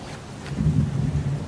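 Outdoor rain in the Heavy Rain video game hisses steadily, and a deeper rumble swells in partway through like distant thunder under the downpour.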